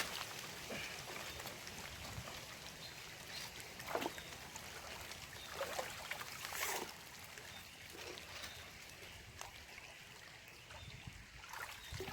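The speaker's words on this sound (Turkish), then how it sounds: "Tabii yağmur da yağıyor." Rain falls on a stream while someone pans for gold with a bucket and sieve. A steady, soft hiss of drops and flowing water carries throughout, broken by occasional small splashes and knocks.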